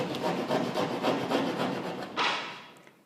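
Handsaw rasping through gypsum drywall along a bevelled cut, a steady run of rough back-and-forth strokes, close and fairly loud, with a sharper stroke near the end before it fades.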